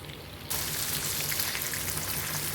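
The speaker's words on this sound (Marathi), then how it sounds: "पहा, 2 मिनटानंतर अशा पद्धतीने तेल उकळलेलं आपल्याला दिसत आहे." Stuffed bangada (mackerel) frying in hot oil in a pan, a dense steady crackling sizzle that jumps abruptly louder after a quieter start, then holds constant and close with no voices.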